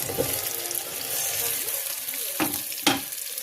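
Steady loud sizzling of tomatoes frying in a hot pan, with a couple of sharp scraping clinks of a utensil stirring.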